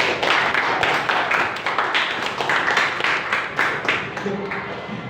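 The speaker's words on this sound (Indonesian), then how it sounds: "Kita berikan tepuk tangan dulu." A classroom of students claps for a group that has just presented, a dense, even patter of many hands close by, holding steady for several seconds.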